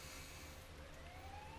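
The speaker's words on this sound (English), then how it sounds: "you hear sirens nearby. It seems there's been an incident." A wailing emergency siren in the video game Persona 4 sounds over a low steady rumble, faint and brief, with its rising tone audible throughout.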